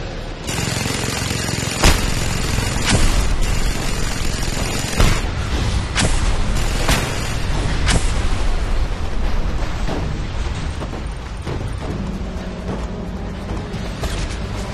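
A mounted gun fires at a roadblock blockade in Just Cause 2, sharp cracks and booms landing at irregular intervals over a dense, continuous din of battle and explosions.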